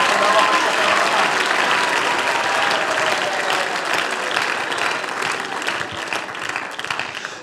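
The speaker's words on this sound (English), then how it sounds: "Somebody clap your hands to the Lord." A church congregation claps hands in dense, steady applause that stays loud and even for several seconds, then thins slightly toward the end.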